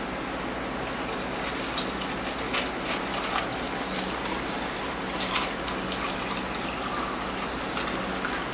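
Water from a Samsung refrigerator dispenser streams steadily into a glass of ice, a continuous gentle pouring and trickling sound with faint clinks, close and fairly quiet.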